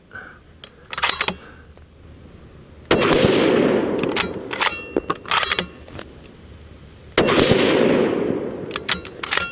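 Two sharp, loud rifle shots from a Bergara Premier .308 Winchester, fired several seconds apart outdoors, each ringing out into a long fading echo, with small mechanical clicks in between.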